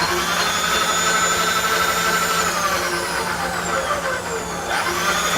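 A Niagara end mill cutting a clamped fixture plate at 660 RPM makes a steady, loud machining whine with tonal ringing that holds throughout, dipping briefly near the end.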